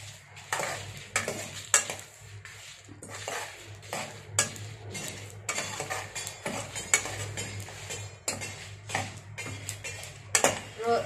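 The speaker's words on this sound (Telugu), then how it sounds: "ఆవాలు కూడా వేసి ఫ్రై చేస్తాం" A spoon scrapes and clatters against a metal pan again and again as spices and mustard seeds are dry roasted for amla pickle, with a faint crackle underneath.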